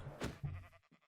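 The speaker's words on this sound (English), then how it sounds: "Oh, there's a sheep over there." A Minecraft video game sheep lets out a short, quiet bleat, heard alone with brief wavering tail notes.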